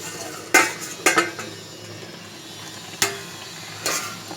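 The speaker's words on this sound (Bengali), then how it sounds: "ভালো করে নেড়ে দিই।" A palong shak curry with bori, beans and eggplant gets stirred in a pan: a few sharp metallic scrapes and clanks of a utensil against the pan over a faint simmer, close by, no voices.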